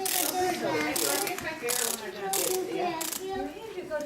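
A wind-up hopping toy whirs and clicks with a rapid ratcheting rattle, close and fairly loud, pulsing in short repeated bursts as the spring unwinds, with a voice faintly behind it.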